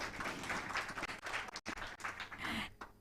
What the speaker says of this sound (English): That is where you clap.